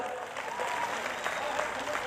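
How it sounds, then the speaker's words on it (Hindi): Steady applause from a crowd at a political rally welcoming a new party member, a continuous wash of clapping with voices mixed in. "उनका भी तालियों से, जोरदार तालियों से स्वागत"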